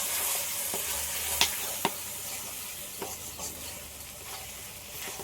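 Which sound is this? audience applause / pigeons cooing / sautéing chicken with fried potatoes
sautéing chicken with fried potatoes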